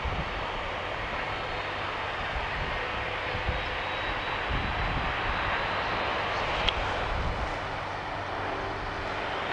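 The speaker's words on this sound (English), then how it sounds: "There's a light plane way above me" A light plane drones steadily high overhead, a continuous distant engine hum that holds level throughout with no talk.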